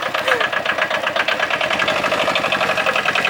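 A small moped car's engine putters with a rapid, regular pulsing rhythm, close and steady, a light buzzy idle running throughout the ride.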